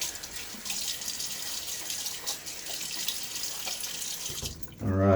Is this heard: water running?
yes